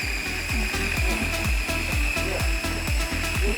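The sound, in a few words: blender blending buffalo cauliflower dip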